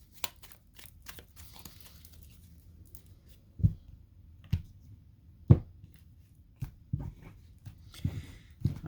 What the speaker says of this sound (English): Let's go ahead and shuffle and cut this deck as well.